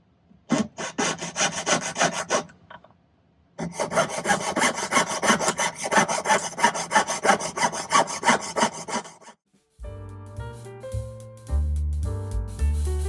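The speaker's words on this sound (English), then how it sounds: "See how my sawing skills are tonight." Hand saw cutting through metal sheet for a maple leaf pendant, steady rapid back-and-forth rasping strokes in two long bursts separated by a pause, close and loud, ending with music.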